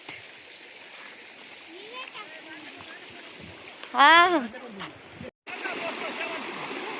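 Irrigation water runs steadily into a maize field channel with a constant rushing hiss, while a voice briefly calls out over it.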